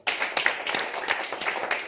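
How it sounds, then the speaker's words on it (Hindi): An audience at a training-centre gathering claps briefly, with scattered, uneven hand claps close by and a few sharper individual claps, without talk. "चलिए कोई तालियां हो जाए"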